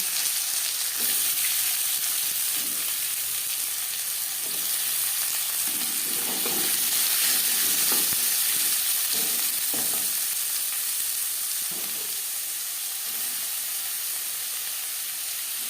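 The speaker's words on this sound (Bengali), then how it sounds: "মাছ ভেজে নেওয়া কড়াইতে আবারও তেল দিয়েছি দিয়ে দেবো পেঁয়াজ কুচি" Chopped onions fry in oil in a wok already used for frying latha fish, giving a steady close sizzle and hiss with intermittent stirring scrapes throughout.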